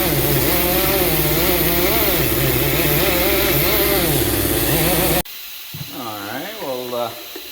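A wire wheel spins on a power tool, scrubbing dirt off the bead of a Wolverine X2 UTV tire: a loud, steady, harsh whirring grind for about five seconds, then it cuts off abruptly, leaving quieter, faint sounds.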